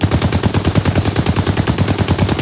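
Loud, rapid automatic gunfire from a combat helicopter rattles in a continuous, evenly spaced burst with no pauses.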